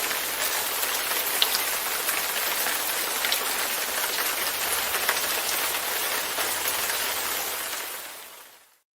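Rain sound effect set off on a live stream, a dense steady hiss of rainfall on a surface holding at even loudness for several seconds, then cutting off abruptly at the end, with no voices.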